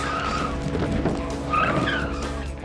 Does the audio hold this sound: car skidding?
yes